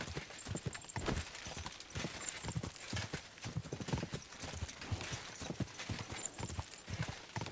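Steady, rhythmic clip-clop of a horse's hooves in the video game Kingdom Come: Deliverance II, a brisk fast horse at a quick gait, with an occasional faint neigh.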